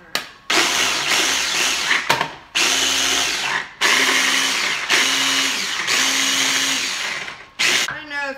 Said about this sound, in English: this food processor, and we want it finer than cauliflower rice, and we want 2 packed cups